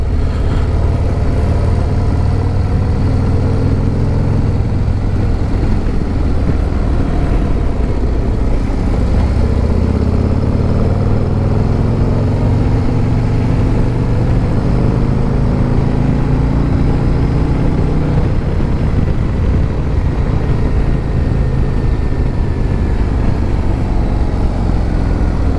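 A 2024 Harley-Davidson Road Glide on its stock exhaust rumbles loudly and continuously, its engine note rising and falling as revs climb and drop while riding, with heavy wind noise throughout and no talk.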